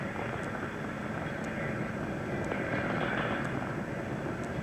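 Space Shuttle Challenger climbing after its 1983 launch, a steady, dense broadband rocket roar that holds at an even level throughout, heard from a distance with no pauses and a few faint high ticks riding above it.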